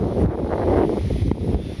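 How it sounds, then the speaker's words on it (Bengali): A steady gust of wind rushes across the microphone in open village countryside under a cloudy sky, a continuous close buffeting roar that holds without pause and carries no voices. "তো তারপরে এখন সুন্দর একটা বাতাস"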